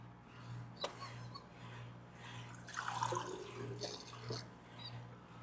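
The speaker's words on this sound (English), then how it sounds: "we put a little water in" Garden hose water running into a sediment filter housing outdoors, a quiet trickle and splash with a few drips, faint and fairly steady.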